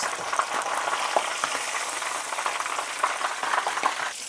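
Chopped onion fries in a little leftover oil in the pan just used to fry tilapia, giving a steady close sizzle with small crackling pops throughout.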